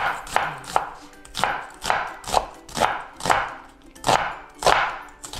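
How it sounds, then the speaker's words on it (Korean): A knife slicing onion into thin strips on a cutting board, steady rhythmic chops about two per second, close and crisp, with no talking. "제일 먼저 양파를 이렇게 채 썰을 거예요"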